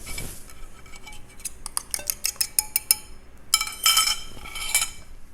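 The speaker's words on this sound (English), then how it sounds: "We're going to add in our eggs." Eggs go into a bowl of keto cinnamon roll dough mixture after butter, heard as irregular clinks and taps of utensils against the bowl, some in quick bursts, close and fairly quiet with no talk.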